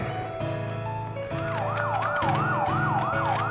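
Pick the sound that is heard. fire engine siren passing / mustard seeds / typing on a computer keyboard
fire engine siren passing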